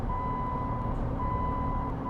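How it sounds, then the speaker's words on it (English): American Truck Simulator overspeed warning: a thin electronic beep tone sounding twice with a brief gap, over the steady low rumble of the truck's engine, no talk. "there's my overspeed warning from Truck Books"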